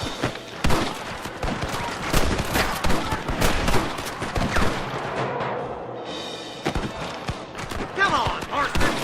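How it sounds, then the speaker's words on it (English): Rapid gunfire from the Western game Red Dead Redemption, dense bursts of shots and fusillades crackling continuously with sharp loud cracks, under shouted in-game voices. "Gun them down!"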